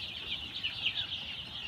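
Sonali chicks cluck and peep softly in a sunny pen on a small farm, a few faint, close high calls overlapping across a short stretch.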